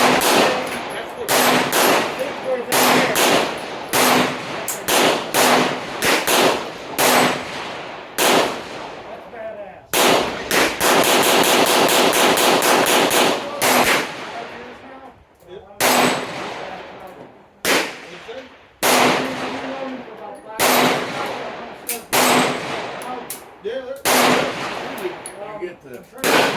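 Horse pistols fired at an outdoor fan shoot, a long series of loud sharp reports, some in rapid strings and one dense burst, with people talking between shots.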